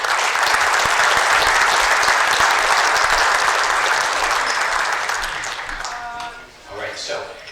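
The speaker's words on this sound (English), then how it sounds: "Ladies and gentlemen, a round of applause for Luke Chapman." A hall of fame induction crowd gives an inductee loud, dense applause that stays strong for about five seconds and then fades, with a few voices heard as it dies down.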